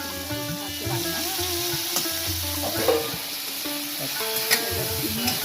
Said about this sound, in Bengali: চিংড়ি মাছটা একটু লালচে লালচে করে আমি ভেজে নেবো